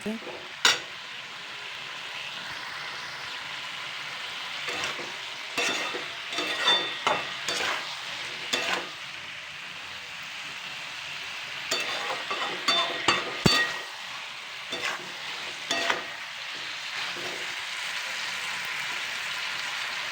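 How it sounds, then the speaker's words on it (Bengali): Masala frying in oil in a pan for a vegetable curry of cauliflower, broccoli, potato and peas, a steady close sizzle broken by repeated clinking spoon strokes and scrapes, with no voices. "এটিকে এখন কষাতে থাকতে হবে বন্ধুরা ভালো করে কষিয়ে নিতে হবে"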